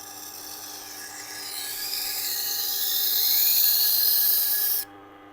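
A knife is drawn across a spinning resin bonded diamond wheel, producing a high, steady grinding whine that swells gradually over a couple of passes, then cuts off abruptly, leaving a quiet motor hum.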